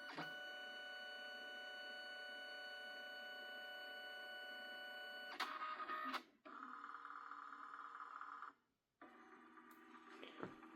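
A Liene PixCut S1 photo and sticker printer powering on hums with a steady electronic whine, then shifts through a few mechanical clicks and brief pauses as its tone changes, close and fairly quiet.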